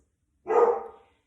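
A single short dog bark, fairly close and clear, rising out of silence and fading within about half a second in a home setting.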